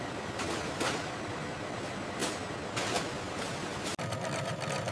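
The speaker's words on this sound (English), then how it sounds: "Specialized machines rapidly stitch and form the iconic pockets for the jeans." Industrial sewing machines in a denim factory stitching pockets onto jeans, a steady fast mechanical whirring rattle running continuously with periodic louder bursts, close and busy.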